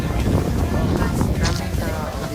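Strong gusts of wind buffet the microphone in a loud, continuous roar on a mountain peak in Nasugbu, Batangas, with faint voices underneath.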